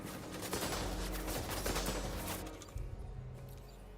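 Dense, rapid gunfire in Death Stranding 2, a loud continuous rattle of shots that thins after a few seconds into scattered, quieter bursts.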